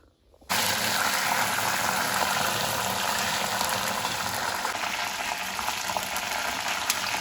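Homemade hair oil mixture poured bit by bit into a hot pan bursts into a loud, steady bubbling sizzle that starts abruptly and continues without pause.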